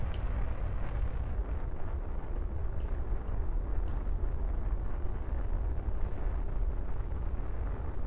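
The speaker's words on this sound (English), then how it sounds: "because we're using a liquid fuel rocket." A liquid-fuel rocket engine roars continuously in Kerbal Space Program, a dense, steady, loud rumble heavy in the low end, with no voices over it.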